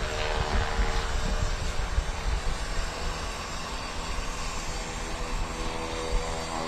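An airplane on its takeoff roll at the Tinker Air Force Base air show, a loud continuous engine roar with broad rushing noise, sustained throughout.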